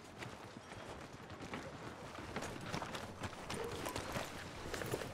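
Horse hooves walking in the Red Dead Redemption 2 video game, a soft, irregular clip-clop of steps that grows slightly louder toward the end over low background ambience.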